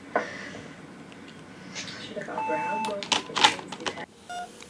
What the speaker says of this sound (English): It's beeping now.